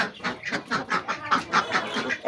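Village ducks quack over and over as they peck at scattered grain, a steady run of loud, close, rhythmic calls with no voices.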